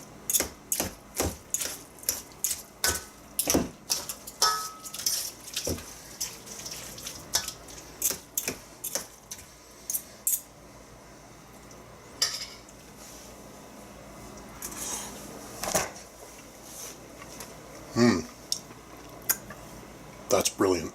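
Pulled pork being shredded and mixed by hand in a home kitchen, with a series of sharp, moist clicks and squishes in irregular bursts, close and fairly clear, thinning toward the end.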